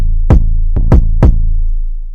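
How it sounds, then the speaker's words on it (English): An FL Studio beat with the kick drum playing alone without the 808 bass: four punchy low thumps in a quick bouncy pattern, loud and close over a steady low hum. "And then sometimes I will just let the kick play but no 808."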